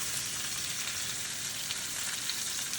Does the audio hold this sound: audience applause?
no